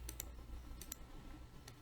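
Computer mouse clicks in quiet, sharp and close, coming in three quick double clicks with short pauses between them.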